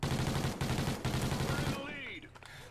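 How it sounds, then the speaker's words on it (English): Rapid automatic gunfire in the Call of Duty video game, a dense loud burst of repeated shots that stops abruptly, leaving fainter game ambience and scattered sounds. "somebody already saw me and shot at me."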